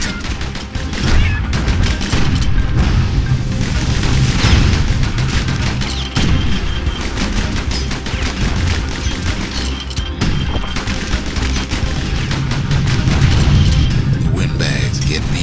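Security skiffs fire in the video game Bastion, dense bursts of gunfire and booming crashes rolling on continuously under a busy soundtrack, loud and close throughout.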